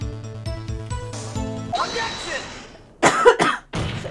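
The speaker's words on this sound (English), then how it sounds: "So sorry. I keep coughing." A woman's harsh coughing bursts out near and loud in a courtroom scene from the Phoenix Wright: Ace Attorney game, several quick coughs following music, with a short pause between them.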